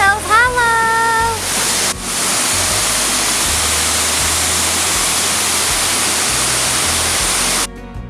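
Loud, steady rush of a waterfall beside a cave at Hell's Hollow, falling water roaring continuously and close for most of the stretch, with brief voices and whistling tones at the very start before the roar takes over.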